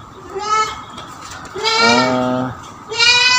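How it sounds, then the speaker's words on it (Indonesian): Goats on a farm bleat in three drawn-out, wavering calls, loud and close, with short pauses between them. "ada kambing lucu nih lucu"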